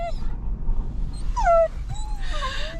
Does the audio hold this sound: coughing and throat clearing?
no